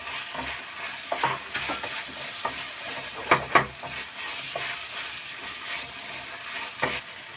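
Crushed ginger and garlic fry in oil for a chicken parts curry, giving a continuous sizzle broken by several sharp scraping stirs against the pan, close and clear with no talking.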